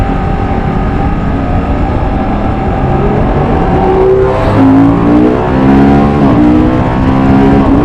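Moto Guzzi Mandello V100 S sports-tourer motorcycle engine downshifting with the auto blipper, a steady loud engine drone that rises into rev blips with shifting pitch partway through, heard up close.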